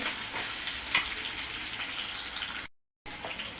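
Sliced onions sizzling in hot oil in a pan while cooking a fish head dopiaza, a steady crackling hiss close up, briefly cut to silence near the end.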